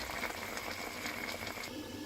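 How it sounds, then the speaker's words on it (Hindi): Mutton chops boil in water inside a covered pot, giving a steady, close bubbling and simmering hiss that runs without a break and with no voices over it. "जब तक चॉप्स जो हैं हमारी तैयार हो रही हैं, बॉयल हो रही हैं"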